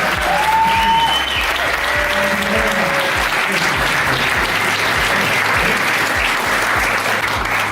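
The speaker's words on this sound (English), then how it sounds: "can I just have one more mega round of applause for all of our sponsors" A crowd at a supercar charity rally event claps loudly and steadily for sponsors, a sustained round of applause with a low rumbling background and a few faint tonal sounds near the start.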